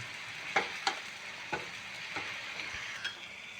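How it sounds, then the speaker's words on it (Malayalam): Cashews fry in ghee in a small iron kadai: a soft, continuous sizzle with a few crisp clinks and stirring scrapes spaced about a second apart, heard alone and fairly quiet. "ഈ നേരം കൊണ്ട് ഞാൻ ആ കാഷ്യൂവിനെ ഒന്ന് നെയ്യിൽ വറുത്തെടുക്കും"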